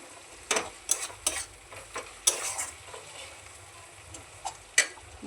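Tomato sautéing with ginger, garlic and onion in a pan, with a soft steady sizzle under scattered spatula scrapes and taps against the metal, close by and fairly quiet.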